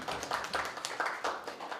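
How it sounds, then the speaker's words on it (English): Applause from a small audience after a public sector debate, quick, dense, moderately loud clapping for under two seconds. "Give them a round of applause, all."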